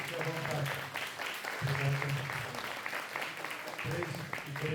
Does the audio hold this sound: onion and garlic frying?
no